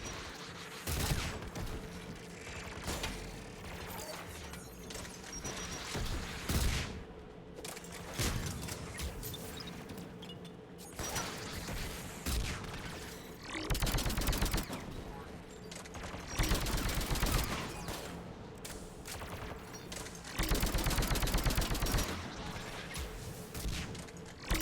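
Mass Effect 3 firefight with repeated bursts of gunfire and heavy blasts in several loud clusters, over a constant background hum, with brief voices between the shots.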